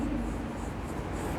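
A teacher writes the word forest during a class lesson, a brief series of faint, scratchy writing strokes heard alone for just over a second.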